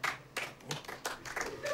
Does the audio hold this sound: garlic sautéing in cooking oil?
no